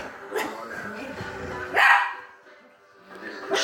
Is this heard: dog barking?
yes